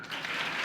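Audience applause at a cultural programme at Dev Sanskriti Vishwavidyalaya in Haridwar, a brief burst of dense, steady hand clapping from a crowd, heard on its own.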